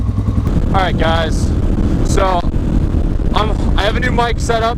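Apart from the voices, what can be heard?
TBR7 motorcycle engine running after head work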